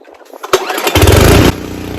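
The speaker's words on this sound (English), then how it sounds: "Let's try to pull start it without messing with the choke or anything and see if it'll start." A Craftsman 6hp snowblower engine is pull-started: a recoil pull rasps briefly, then the engine catches on the first pull and roars loudly and steadily up close before cutting back abruptly near the end.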